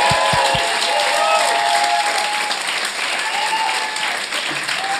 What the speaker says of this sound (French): bonne main d'applaudissements pour Pierre-Olivier Forgette et Yannick Demartino